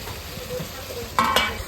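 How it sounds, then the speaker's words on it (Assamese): Marinated chicken sizzles with onions in a pan, a soft frying hiss under quiet stirring scrapes, then a louder burst of sizzling near the end. "আমি তাতে মেৰিনেশ্যন কৰা মাংসখিনি দি দিছোঁ। দিয়াৰ পিছত এইখিনি ভালকৈ ফ্ৰাই কৰি লৈ ল'ম"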